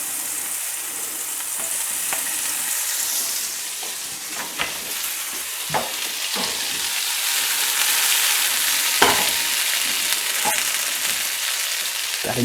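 Snails sizzle and char in a hot pan beside steak, a dense steady frying hiss with scattered sharp pops and spatters, close and fairly loud, no voices.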